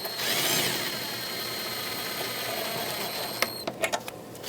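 A power tool whirs steadily as it tightens the battery bracket bolts on a 2018-2023 Subaru Crosstrek, then stops, followed by a few sharp metallic clicks and taps.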